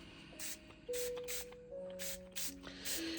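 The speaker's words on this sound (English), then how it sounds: "This is Vintage Photo Spray. And I'm just going to spray it on." Vintage Photo dye spray misted onto a paper craft project in short, close hissing bursts, about six quick sprays in a steady rhythm with a faint steady tone underneath.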